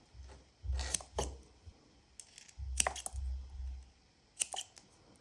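Scissors snipping the ends of a paper bead dangle, several crisp close cuts in uneven clusters with quiet pauses between them, no speech.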